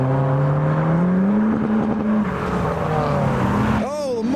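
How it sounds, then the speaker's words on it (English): A boosted Ford Capri passes close by at a car show, its engine note climbing and then easing off as it goes by. Voices and crowd noise sit underneath. "there goes the Capri, boosted"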